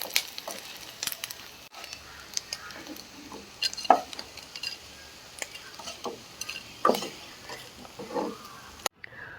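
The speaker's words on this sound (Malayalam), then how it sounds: "കൊഞ്ച് നമ്മൾ നന്നായിട്ട് വറുത്തെടുത്തിട്ടുണ്ട്" Dried shrimp fry in hot oil in a pan for a pickle, a continuous soft sizzle broken by intermittent scraping and clinking as a utensil stirs and lifts them.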